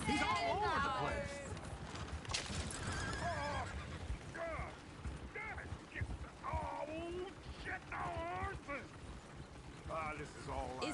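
Horses in Red Dead Redemption 2 whinny and neigh repeatedly, loud and close, with hoof clip-clop, over game characters talking throughout.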